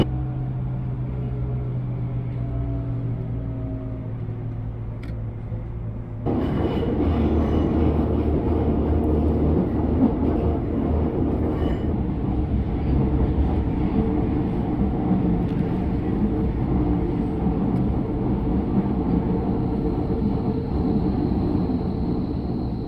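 A Hamburg subway train in a game passes the harbour, starting with a low hum and then a louder steady rumble of wheels and motors that runs throughout.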